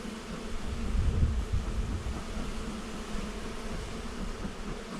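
Honeybees drone in a steady, dense buzz around the frames of a five-frame cell builder hive during spring queen rearing, with no voices.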